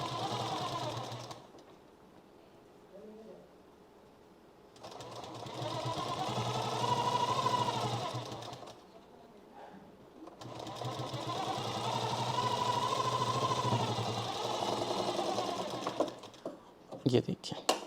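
A domestic sewing machine stitches invisible piping onto a blouse in two long runs, its motor whirring steadily for several seconds each time, separated by quiet pauses, with a few clicks near the end.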